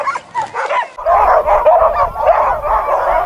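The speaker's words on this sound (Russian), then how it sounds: "Итак, собаки начинают с ума сходить, когда начинают запрягать упряжку." Sled dogs bark, yip and whine excitedly as they are harnessed to a team in Kamchatka during preparation for the Beringia race, a dense, continuous chorus of overlapping voices close by.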